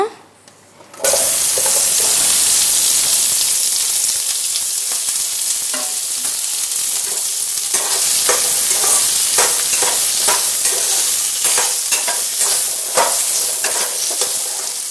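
Onion, ginger and garlic sizzle loudly in hot oil in a kadai, with steady frying hiss and repeated scraping clicks of a spoon stirring, continuous and close for the whole stretch after a brief quiet start.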